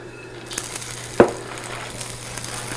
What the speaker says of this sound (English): I can hear it sizzling when it hits that vinaigrette.